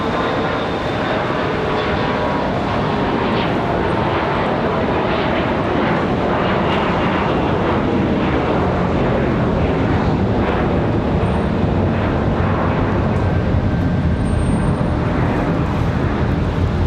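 Delta airliner at Raleigh-Durham airport on a snowy day, its engines roaring steadily and loudly throughout, a broad continuous rumble with faint whine and wind buffeting, no talking.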